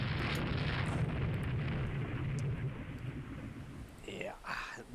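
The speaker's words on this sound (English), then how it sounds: "Wow, that was a lot of torpedo hits." Torpedo hits exploding on a heavy cruiser in the naval strategy game Rule the Waves 2, a sustained deep rumbling roar of blasts that fades toward the end as a voice starts speaking.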